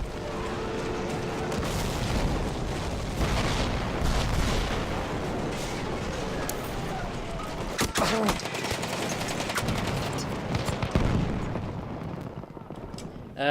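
A Hellriegel submachine gun rattles in Battlefield 1 amid dense battlefield gunfire and distant explosions, with rapid bursts of shots cracking over a constant roar of combat.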